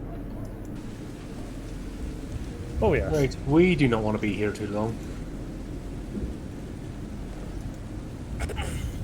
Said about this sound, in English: you can hear the sounds of this sound of the rain getting heavier, and you can hear in the distance. You can hear the sound of an approaching storm